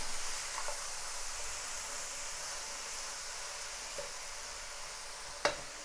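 Curry with aubergine being stirred in a frying pan, giving a steady low hiss of sizzling throughout, with a few soft scrapes and one sharp clink near the end.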